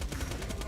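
SMG fire in the video game Borderlands 2 comes as a brief rapid burst of shots, loud and tight, with no speech over it.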